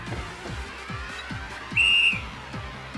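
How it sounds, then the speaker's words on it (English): A single clear, sustained whistle sounds in the video game Zanki Zero, a bright tone lasting about half a second over a rhythmic pulsing game soundtrack. "I love her freaking whistle."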